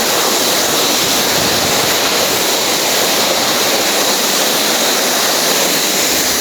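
Air Terjun Pengantin waterfall roars in a dense, constant wash of falling water, loud and close with no pauses or voices.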